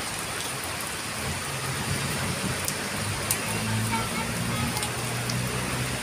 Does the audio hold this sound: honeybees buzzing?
no